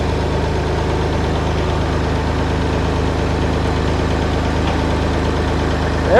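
Massey Ferguson tractor engine idling, a steady low rumbling chug with even rhythmic knocking, close and loud, unchanging throughout.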